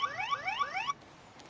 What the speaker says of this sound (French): L'alarme s'active